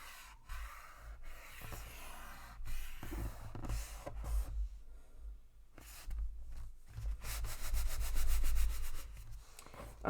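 Paper on a mixed-media heart craft project being rubbed down by hand, soft scratchy strokes that come in uneven bursts, quiet and close, growing into faster, more continuous rubbing near the end.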